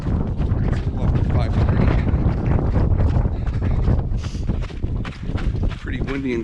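Strong gusty wind at the Grand Canyon rim buffets the microphone with a loud, rough roar, while a person talks underneath.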